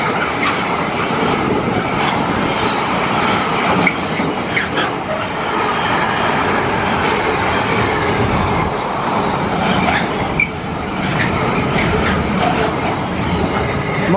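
A London train rumbles steadily past near Wembley, with continuous wheel-on-rail clatter and a faint metallic squeal, loud and close throughout.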